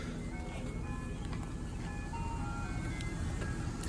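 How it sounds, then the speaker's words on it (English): An ice cream truck passes on a summer street, its chiming jingle melody ringing steadily over a constant low traffic rumble and road noise, moderately loud throughout. "It's literally just the ice cream truck."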